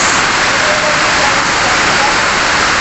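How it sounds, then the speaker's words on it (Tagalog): Heavy rain pours in a steady, dense hiss that fills the whole stretch without a break, loud and close. "Kusog ang ulan."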